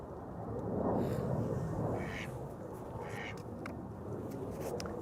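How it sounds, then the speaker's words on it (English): A duck quacking near the water beside Amsterdam Schiphol Airport, a few clipped calls rising over loud rumbling outdoor noise, fairly distant. "If you hear quacking, that's not my sound effect."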